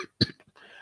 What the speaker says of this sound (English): I have to be coughing, and probably you can tell me why I'm coughing